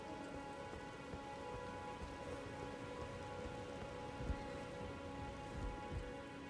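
Steady rain falls across the Weeping Peninsula in the game Elden Ring, a constant soft hiss of drops on surfaces with a few louder low thuds, no voices.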